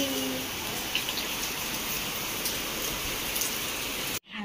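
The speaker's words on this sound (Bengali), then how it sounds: "আর বাইরে হচ্ছে বৃষ্টি।" Rain falls steadily outside a home as an even, continuous hiss that stays at one level throughout, with a faint voice briefly underneath, then cuts off abruptly at the end.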